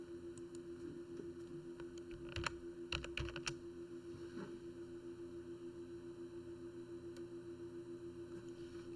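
Keys tapped on a computer keyboard during data entry in a word processor, a short cluster of quiet clicks midway over steady electrical hum and hiss, no speech.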